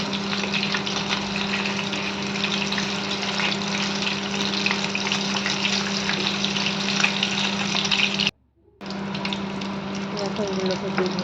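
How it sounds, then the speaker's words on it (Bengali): Chicken pakoras deep frying in hot oil give a loud, steady, close sizzle and crackle over a constant low hum, cutting out briefly near the end before resuming. "তো দেখো একটু ভাজা হয়ে গেছে। এবার এটাকে আমি একটু উল্টে নেব।"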